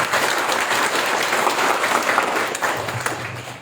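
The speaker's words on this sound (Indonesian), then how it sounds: "Aplaus dulu buat NSBO." An audience bursts into sustained applause at a product presentation for NSBO massage oil therapy, dense clapping holding steady throughout before easing slightly at the end.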